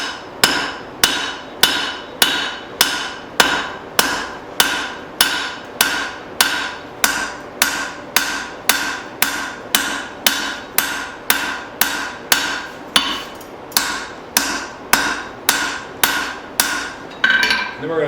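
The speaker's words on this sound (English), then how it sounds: "So I'm going to get these bevels on the other side forged in and do a little bit of plenishing, getting some of the lumps out," Steady hammer blows on a steel tomahawk head as its bevels are forged and plenished, roughly two strikes per second, loud and close with ringing metallic tails and no talking.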